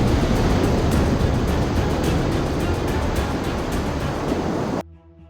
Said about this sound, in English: Massive waves and powerful flooding hit seawalls and the coast in California